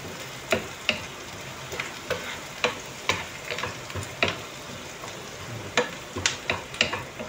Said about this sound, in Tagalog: Haluin lang natin para hindi masunog yung bawang.